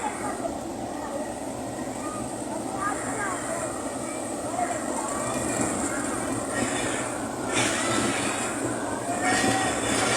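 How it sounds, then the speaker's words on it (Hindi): A passenger train rolls by in Pakistan, a steady broadband rumble and rush holding loud and close for the whole stretch, with faint voices underneath. "ये कितना प्यारा मंजर है रेलगाड़ी का।"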